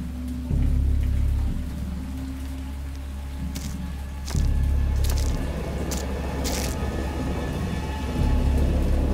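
Steady heavy rain pours down while deep rolls of thunder rumble several times, with a few sharp crackles overhead.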